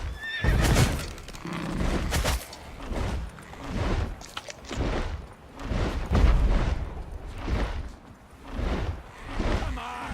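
A horse in the video game The Witcher 3: Wild Hunt gives loud whinnies and snorts over clip-clopping hooves, in repeated bursts with heavy thuds during a fight, with some voice mixed in.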